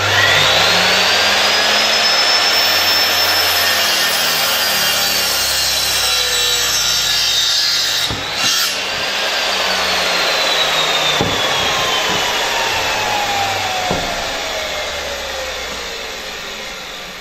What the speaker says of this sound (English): My 90-degree angle is locked in, ready to go when we make the cut.